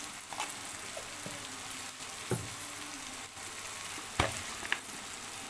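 Ginger garlic paste sizzles steadily in a hot pan, a continuous close frying hiss broken by a few sharp scraping clinks of a spoon stirring against the metal, with no voices.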